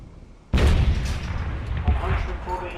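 A single heavy artillery gun fires in a wartime radio drama, making one loud, sudden boom that rolls on as a long rumbling decay, with no voices over it.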